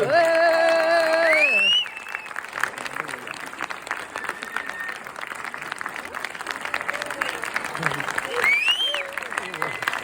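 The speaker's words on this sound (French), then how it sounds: "on peut applaudir encore plus fort" Music with a sustained melody ends abruptly, giving way to steady audience clapping and cheering that continues under a rising whistle-like tone.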